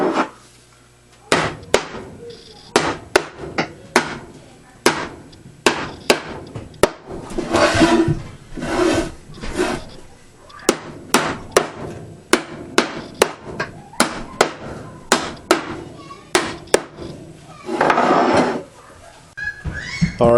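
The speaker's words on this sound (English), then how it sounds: "got some nails started every few inches to finish nailing that down" A hammer drives nails into the wooden boards of a homemade mink box: sharp, close, loud strikes land in quick runs and irregular bursts, with brief pauses and some knocking of wood between them.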